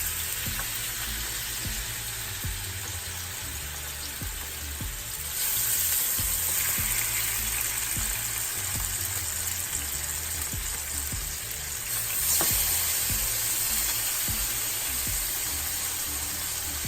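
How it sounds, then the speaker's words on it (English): Four pork chops sizzle steadily in a really hot skillet, a constant close frying hiss with faint occasional ticks and crackles, and no voices over it. "we're going to take the 4 pieces of pork chop and we're going to put it in the skillet"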